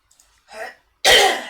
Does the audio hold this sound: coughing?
yes